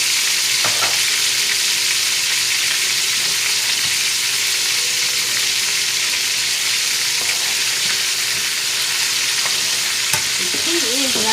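Garlic sizzles in melted butter in a pan with a loud, continuous hiss, broken by a few faint clicks and scrapes of stirring, with no talking.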